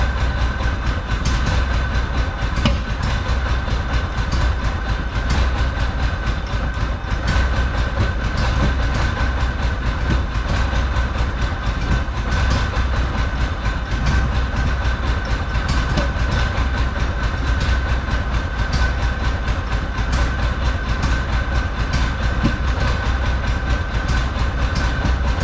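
A rare old Porsche car engine runs in a steady, loud, close drone with a constant rumble and a fine rattling texture, unchanging and with no voices over it.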